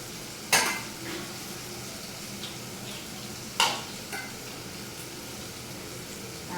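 Spinach, soybean and potato fry in a pan with a soft continuous sizzle, broken by two sharp scrapes of a utensil against the metal and a few lighter taps.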